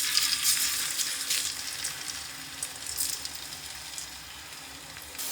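Crushed garlic frying in plenty of hot oil for chicken sukka, a bright crackling sizzle with bursts of popping that gradually eases, with no talk.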